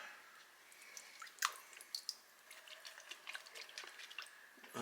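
Water drips and trickles out of a toy turtle, a quiet close run of irregular small drops and splashes with a few sharper plinks.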